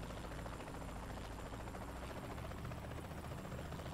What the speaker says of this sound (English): Back to the chopper.